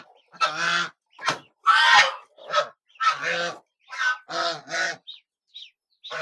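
Geese on a village poultry farm honk in a rapid series of loud, close calls with short gaps between them.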